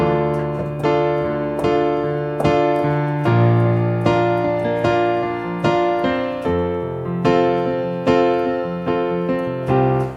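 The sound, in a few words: piano playing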